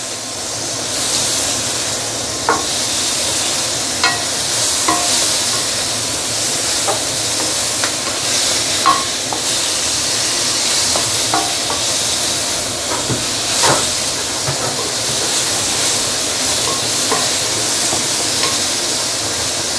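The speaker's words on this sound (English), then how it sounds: "to slowly pan fry it" Prawns pan-fry slowly over medium heat in a caramelizing sugar and dark soy sauce coating, a steady loud hiss with scattered small crackles and occasional utensil taps, no one speaking.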